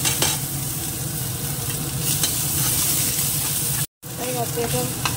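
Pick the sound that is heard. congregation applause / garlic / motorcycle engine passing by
garlic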